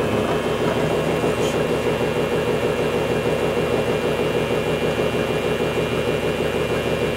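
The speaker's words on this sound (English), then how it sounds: "The wheel is so heavy that it takes just a minute to adjust it to a particular speed that you want." A heavy wheel on a homemade free energy motor project spins steadily, giving a constant droning mechanical hum with a faint rhythmic pulse, close and unbroken, with no voices.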